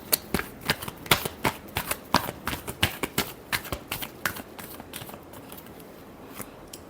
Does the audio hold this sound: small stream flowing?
no